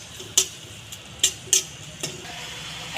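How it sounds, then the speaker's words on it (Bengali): An egg dish with Schezwan sauce is stirred in a pan, giving a few sharp scrapes and clacks of the utensil spaced irregularly over a low, steady sizzle. "নেড়ে চেড়ে নেব।"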